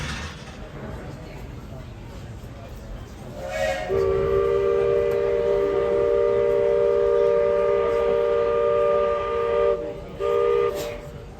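A steam train of the Walt Disney World Railroad rolls into Frontierland Station with rumbling wheels, then a long, loud multi-tone whistle blows twice, briefly broken, with faint voices underneath.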